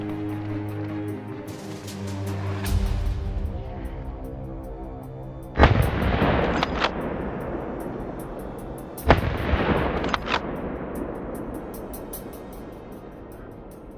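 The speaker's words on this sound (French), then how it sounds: "J'attends bien mon angle de sécurité de 30 degrés pour pouvoir lâcher une balle en toute sécurité." Two sharp rifle shots fired at a wild boar during a driven hunt in the woods, roughly three seconds apart, each loud and close with a long echoing decay over quiet ambient noise.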